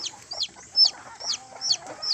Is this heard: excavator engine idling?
no